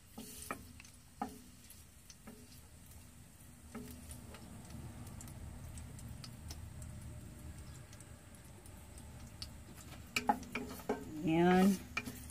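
Garlic sautéing in a heated pot makes a steady low sizzle, broken by occasional clinks and scrapes of a utensil against the pot, with a louder scraping stir near the end.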